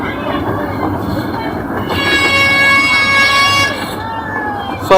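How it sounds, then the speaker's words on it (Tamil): A miniature train at Siddharth Garden and Zoo in Chhatrapati Sambhajinagar runs with a steady rumble and rising tonal whistle or horn-like sounds, with speech over it. "சவுண்ட் எல்லாம் போட்டு போகுதுப்பா ட்ரெயின்."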